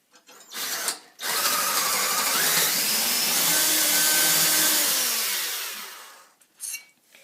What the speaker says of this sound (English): you have to drill a hole right here 2 centimeters in so the bolt can fit in